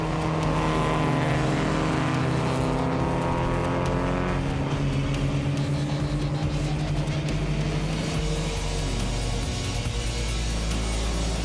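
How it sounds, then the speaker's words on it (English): Historic race cars lapping the Kyalami circuit in South Africa, engines droning loudly and continuously with rising and falling pitch as cars pass, dense layered motor noise throughout with no talk. "it's great to have the historic cars racing at the track"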